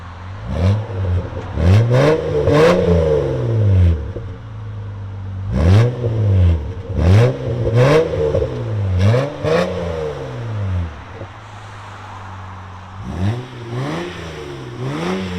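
A 1996 Toyota Land Cruiser with a 4.5L inline-six, high-flow cats and a Borla Pro XS exhaust is revved repeatedly, with sharp throttle blips in clusters that rise and fall back to a deep, steady idle, loud and close.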